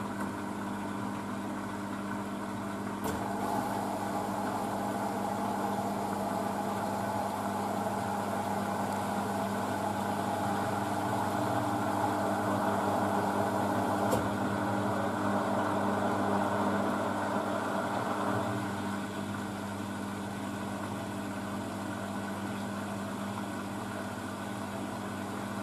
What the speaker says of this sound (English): just about to go for the third intermediate spin